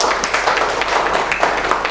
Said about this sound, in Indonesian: Mantap ya, tepuk tangan buat mereka.